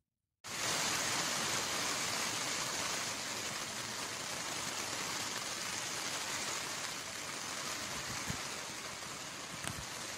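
Heavy rain drumming on a tent at night, a steady dense hiss that begins abruptly and continues without pause, with a few faint individual drops and no speech.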